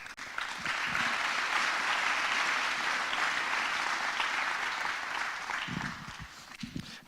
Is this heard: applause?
yes